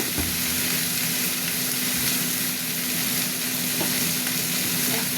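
Food fries in a pan with turmeric and salt added, a steady close sizzle with occasional stirring scrapes, constant and unbroken.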